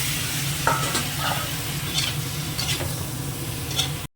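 Cucumber with turmeric, salt and green chilli is stirred in a pan, a spoon scraping and clinking over a low sizzle in a steady, close, irregular rhythm with no talk.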